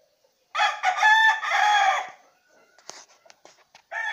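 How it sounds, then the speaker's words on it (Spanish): Fighting roosters in training crow twice, loud and close, a long ringing cock-a-doodle-doo followed by scattered clucks and a shorter crow starting at the end. "estos son parte de los gallos de Richard Chávez"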